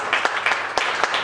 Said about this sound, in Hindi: सब तालियां जोरदार होनी चाहिए।